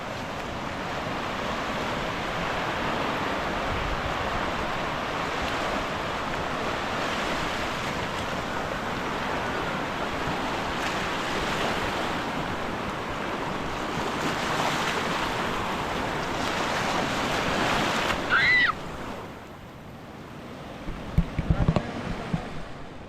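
Rough sea waves crash and wash continuously during a typhoon, mixed with gusty wind buffeting the microphone; the surge eases near the end with a few knocks.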